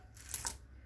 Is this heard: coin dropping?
yes